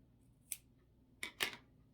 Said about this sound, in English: Just gonna make a little snip for his nose.